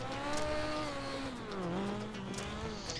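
Legends race cars powered by 1250cc motorcycle engines roar around an oval track at Hednesford, several high-revving engines droning together with pitch dipping and rising as they pass, loud and continuous.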